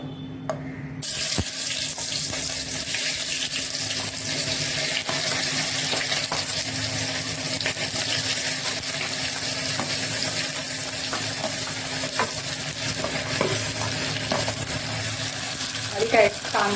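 Chopped onion dropped into hot oil in a pressure cooker sets off a loud, steady sizzle that starts abruptly and holds as a continuous hiss, with faint stirring clicks.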